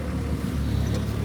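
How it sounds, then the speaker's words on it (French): A vehicle engine is left idling in the bush, a close, steady low hum that runs unbroken and alone. "je laisse tourner un peu le moteur encore"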